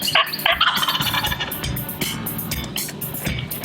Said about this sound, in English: Charlie makes one call and we have a bird gobbling right away.